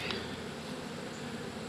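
Close, continuous drone of honeybees around an opened hive while being fed, a soft, steady buzz with no talk.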